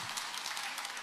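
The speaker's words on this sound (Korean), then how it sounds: "할렐루야 박수로 화답하겠습니다." Congregation applause during a Sunday church service, steady dense clapping filling the room at moderate loudness without speech.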